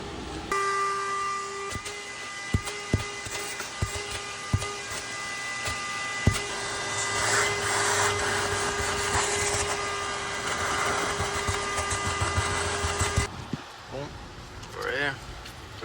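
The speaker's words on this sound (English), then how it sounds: "we'll vacuum it up right now" A vacuum cleaner runs steadily for several seconds inside a BMW E46 wagon with a whining hum, punctuated by clicks and knocks, then cuts off abruptly.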